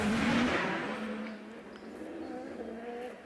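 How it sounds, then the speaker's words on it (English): A lightweight Gould GR59 race car with a 4-litre Judd engine accelerates at a hillclimb, its high engine note strong at first, then fading as it pulls away, with faint voices in the background. "I could already hear him accelerating towards me"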